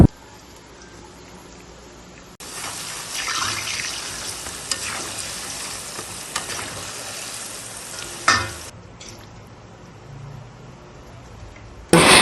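Chicken wings deep-frying in hot oil for a second round give a dense, loud crackling sizzle that swells after the first couple of seconds and carries on steadily, with a few sharper pops and clatters, no talking.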